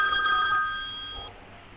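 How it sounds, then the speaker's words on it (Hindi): An electronic telephone ring tone, a steady bright tone lasting about a second and a quarter, plays while a phone call is being placed in a comic lockdown sketch, then cuts off leaving quiet room noise. "फोन लगा के देखता हूँ"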